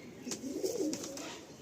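Chotiyal breeding pigeons kept indoors coo softly in low, throaty murmurs, faint and close, with a few brief sharper sounds over the top.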